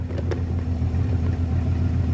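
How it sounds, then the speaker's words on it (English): A Ford Capri with a manual gearbox, run after sitting for a long time, idling steadily with a low, even rumble and no revving across the whole stretch. "it's been idling for a little bit now"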